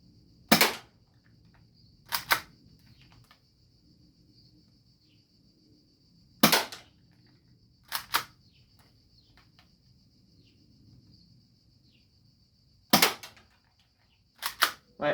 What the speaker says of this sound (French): On arme et c'est parti pour le tir.